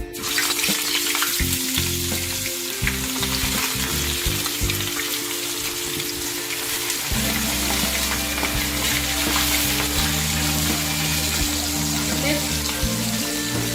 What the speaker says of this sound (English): Now I'm going to dip my fish into my hot oil.